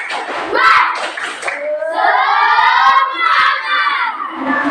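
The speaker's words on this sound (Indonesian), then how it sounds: "melompat-lompat, sambil hore, hore, tepuk tangan, semangat" A group of children in a classroom cheer together in loud, sustained shouts, with scattered thumps and hand sounds mixed into the close, lively din.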